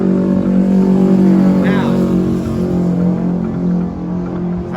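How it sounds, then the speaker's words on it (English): Motorcycle passing outside a theater in Fresno's Tower District, a loud, steady engine drone that swells and slowly fades as it goes by, with someone talking briefly over it. "sorry about the motorcycle"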